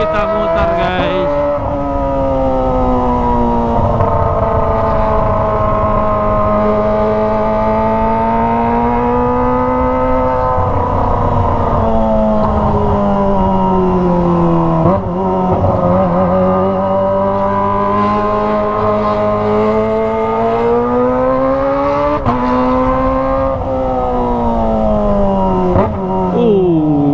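A loud aftermarket exhaust on a Kawasaki ZX-25R motorcycle revs continuously, its throaty pitch rising and falling in repeated surges close by.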